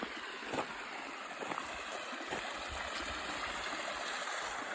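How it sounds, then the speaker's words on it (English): Water from a small mountain stream on a Mount Olympus trail runs in a soft, continuous trickle, faint and close by, with no talking. "It's like a little stream running off the mountain."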